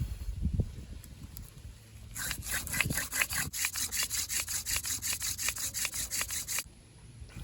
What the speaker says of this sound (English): I cut my other notch